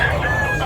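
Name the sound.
chickens, roosters crowing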